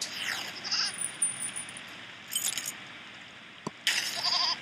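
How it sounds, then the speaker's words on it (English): A goat in a video game lets out a few short, thin bleats separated by pauses, over a steady game soundscape. "The goat was alive!"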